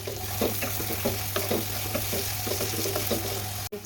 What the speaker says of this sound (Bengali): পেঁয়াজ কেটে রেডি করে এগুলো এখন ভাজা ভাজা করে নিচ্ছি